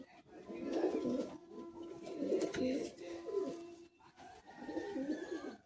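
Madrasi high flying pigeons in a loft, cooing in repeated low throaty bursts with short pauses between phrases, close by, with a faint background voice.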